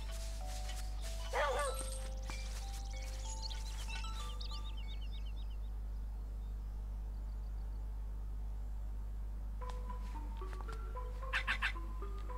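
A dog in the video game The Legend of Zelda: Link's Awakening gives a few short, fairly faint yips and barks, one near the start and a quick cluster near the end, over a steady low hum.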